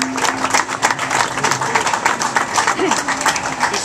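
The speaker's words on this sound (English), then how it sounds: "give a round of applause to Carl and all the team at Michelin" A crowd at Sebring gives a round of applause to the Michelin tyre team behind the Nissan DeltaWing race car, with a steady patter of many hands clapping at moderate volume from start to finish.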